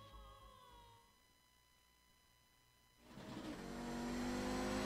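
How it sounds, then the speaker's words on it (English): An Audi race car engine in the iRacing game holds a steady tonal hum at Road Atlanta, then surges loudly into a hard, rising rev that builds to the end; no talking. "we're in the GSRC Audi, so let's do a lap around Road Atlanta"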